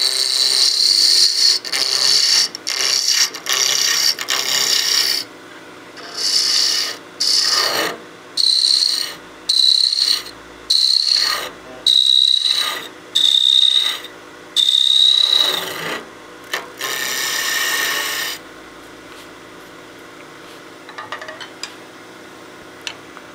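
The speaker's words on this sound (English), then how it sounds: "So let's use our skew, turn our speed back up." A wood lathe turns a small birdhouse ornament while a skew chisel cuts, giving close, scraping whines in repeated bursts separated by short pauses, then quieting to light tapping at the end.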